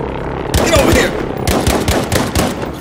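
Rapid bursts of close automatic gunfire in a Battlefield V multiplayer match on the Rotterdam map, loud sharp cracks in quick irregular strings with brief pauses between volleys.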